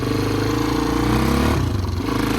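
A Kawasaki KFX 400 ATV engine pulls loudly and close through a low crawler first gear into second, its revving buzz rising steadily and then dipping briefly at the shift before climbing again.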